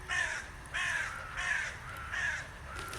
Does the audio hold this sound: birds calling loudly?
yes